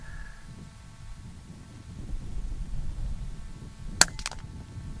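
A single sharp crack from a Daystate Red Wolf .22 caliber air rifle fired outdoors on a windy range, heard once near the end over a steady breezy background.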